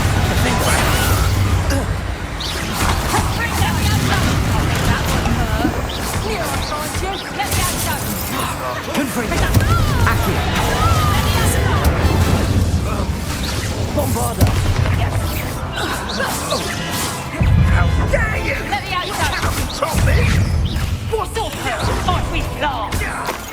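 Blasting Bombarda spell explosions in Hogwarts Legacy on PS5 go off repeatedly amid dense, loud game combat noise, with sharp bursts and crashes layered under a voice speaking throughout.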